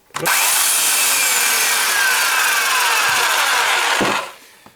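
A Bosch AKE 35 S cordless electric chainsaw runs steadily for about four seconds, loud and close, with a brief start and a tapering stop at the end.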